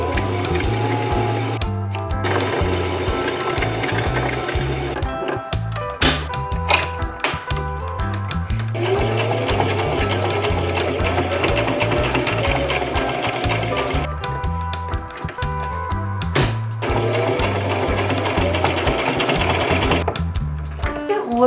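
A home sewing machine stitches a thrifted knit top after its bobbin is refilled, running in steady bursts with brief pauses, close and fairly loud throughout, with a faint voice in places.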